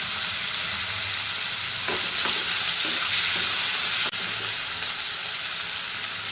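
Chicken and green chillies fry in a pan with a steady, loud broadband sizzle, a few soft stirring scrapes and a sharp clink near the end, with no talking.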